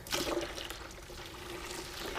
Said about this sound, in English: We're putting in 3 hot bottles of water.